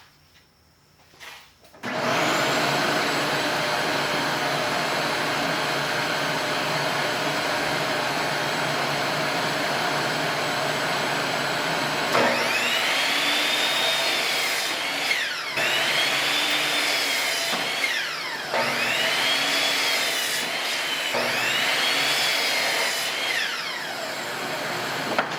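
A power saw cuts wooden boards for a potting bench, starting with a long steady whine and then working through several repeated cuts whose pitch dips and recovers as each board is sawn, loud and close with no talking.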